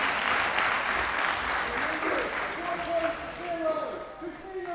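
Crowd at a Swordfish 2011 tournament cheering loudly in anticipation of a winner announcement, dense continuous cheering and clapping with a voice speaking over it.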